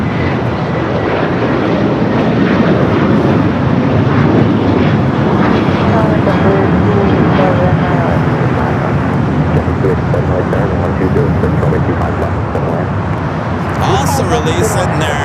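A Sun Country airliner in the all-white hybrid livery moves at LAX, a loud, continuous engine roar that stays steady for the whole stretch with voices underneath.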